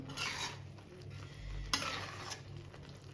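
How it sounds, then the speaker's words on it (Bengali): Partly cooked rice for chicken tehari is stirred in a pot after the lid comes off: soft, quiet scraping and shuffling of grains with a light sizzle and one sharper knock of a utensil, no talking. "একটু নেড়ে দিচ্ছি"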